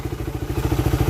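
A Honda Rider 150 motorcycle engine runs just after a carburetor hose replacement, its close, rapid, even putter sounding alone for about a second.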